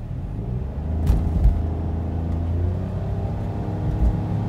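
A Toyota Yaris Cross hybrid 116 hp accelerates with a low, steady engine drone that rises slightly under load. A few soft bumps sound across the run, and no one speaks.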